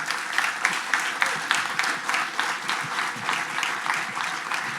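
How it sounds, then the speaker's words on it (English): An audience at a business interview event claps for the guest, a dense and steady round of applause that lasts several seconds with no one speaking over it. "Will you please give Nikolay a great applause?"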